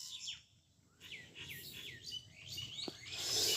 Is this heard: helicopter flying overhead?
no